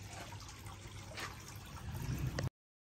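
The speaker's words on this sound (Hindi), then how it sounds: "पानी आना स्टार्ट हो गया है।" Water runs into a swimming pool as it fills, a low trickling and gurgling stream that stays steady and faint for a couple of seconds, then stops abruptly.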